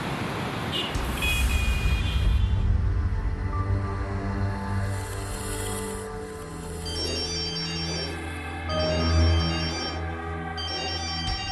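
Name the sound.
phone ringing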